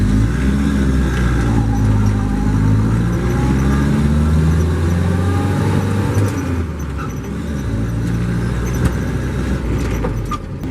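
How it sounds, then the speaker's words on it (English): An old Jeep with a 4-cylinder engine driving downhill under engine braking, a loud steady droning hum with rising and falling pitch inside the cabin. "going downhill and you're letting the engine do all the braking, you can still hear it gets very loud"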